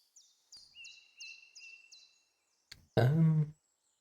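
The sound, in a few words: bird chirping in the video game NORCO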